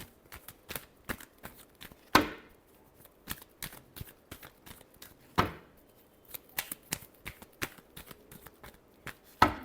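Tarot cards being shuffled by hand, a run of crisp rapid riffling flicks and taps with two louder full riffles, close and alone without talk.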